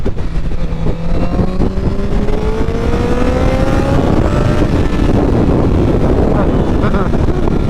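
A Honda CBR1000RR motorcycle engine revs up steadily in second gear, pitch climbing as it accelerates, with heavy wind rushing across the microphone throughout.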